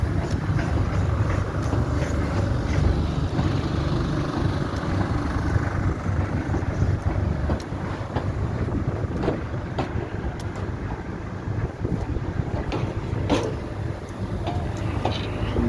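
Polish steam locomotive running a Santa special train draws into a station platform, a steady broad rumble and churning roar close by with wind buffeting the microphone throughout, no clear chuffs or whistle standing out.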